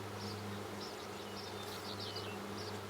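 Mountain Grey Caucasian honeybees buzzing in a dense, continuous drone close at hand, with wingbeat hum layered over a steady low tone and occasional higher whines from individual bees passing near.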